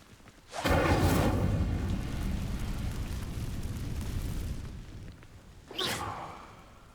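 A spell bursts into flame on dry vines in Hogwarts Legacy: a sudden loud whooshing roar of fire that burns steadily for several seconds, then fades, followed by a second shorter flare.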